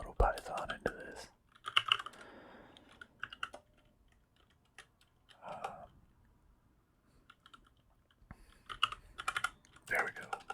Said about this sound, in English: I'm tired of typing out console.log